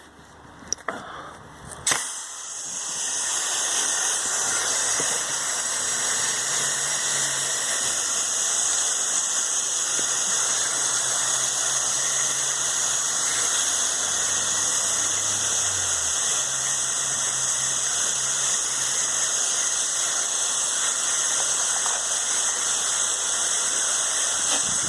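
A pressure washer sprays soap onto house siding up under the eaves. The spray is a loud, steady hiss with a high squealing edge that holds nearly unchanged for over twenty seconds after a short start, and no one speaks.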